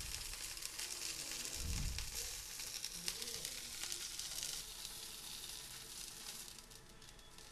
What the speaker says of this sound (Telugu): ఇదే విధంగా మిగిలిన స్టిక్స్ ని కూడా వేపుకుందాం।